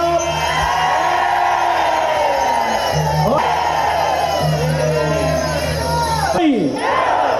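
A large crowd cheers and shouts together in a loud, sustained roar, with whoops rising above the din.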